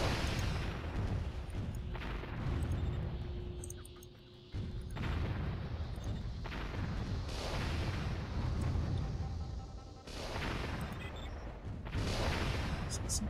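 Tank cannons firing in the real-time strategy game Warzone 2100, with repeated heavy booms and explosions rolling through a dense battle soundscape and brief lulls between volleys.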